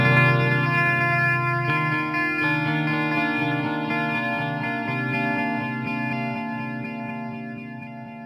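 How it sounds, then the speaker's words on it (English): Electric guitar through a delay pedal set to long delay time and many repeats, chords ringing continuously as echoes pile up into a dense, lush wash that slowly thins toward the end, with no talking. "So we'll turn up the repeats and make the delay time longer as I'm playing."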